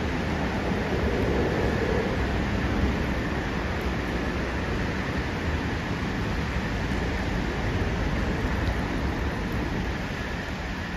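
Heavy rain pours steadily at an outdoor fishing spot, a dense, continuous hiss with no breaks, loud and close throughout.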